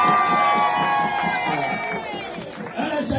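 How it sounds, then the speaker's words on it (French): A rally crowd cheers and shouts, a loud close roar of many voices with whistles that swells and dips over a few seconds, while a voice carries on a public address system. "Je veux qu'on l'applaudisse très très fort."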